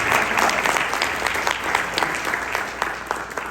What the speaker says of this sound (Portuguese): Dá uma salva de palmas para o seu.